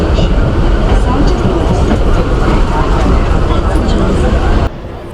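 A Mumbai local train rumbles loudly from inside the carriage, a dense steady roar of wheels and motion with rattling and crowd babble, dropping sharply quieter near the end.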